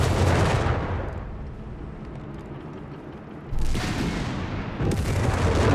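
Gunfire and explosions in the Company of Heroes 3 battle rumble loudly and continuously, with heavy booming bursts that ease off, then swell again.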